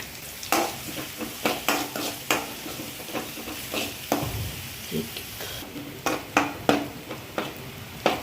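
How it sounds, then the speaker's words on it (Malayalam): Chopped onion with a pinch of salt frying in a pan, a continuous sizzle broken by frequent sharp scrapes and knocks of a spoon stirring against the pan, close and fairly loud. "ഉള്ളി ചോപ്പ് ചെയ്ത് വെച്ചിട്ട് ഇളക്കുക. ഇത് വേഗം മൂത്ത് കിട്ടാൻ വേണ്ടിയിട്ട് ഉപ്പ് കുറച്ചിടുക."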